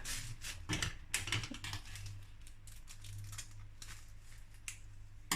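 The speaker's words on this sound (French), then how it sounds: "Je prends un ciseau, je découpe." Scissors cutting through paper or a baking sheet while preparing a chocolate birthday cake, a run of quiet, close snipping clicks, busier at first and then sparser, with no voices.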